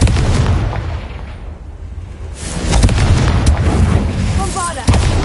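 A Confringo blasting spell explodes in Hogwarts Legacy inside a cave maze, loud crackling bursts and rumbling booms filling the space, ending on a sharp impact.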